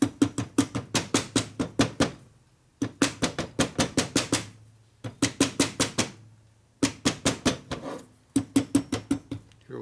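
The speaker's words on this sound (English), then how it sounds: "what I do is I just tap them lightly with a hammer" Rapid series of light, sharp taps from a plastic hammer on an S&S 113ci Evolution Harley-Davidson engine part come in four bursts of about eight to ten strikes, separated by brief pauses.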